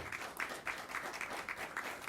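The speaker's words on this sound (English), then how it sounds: "Ladies and gentlemen, this group of individuals deserves a round of applause" Audience applause at a school employee awards ceremony, quiet and distant, with rhythmic clustered claps forming a steady patter for about two seconds.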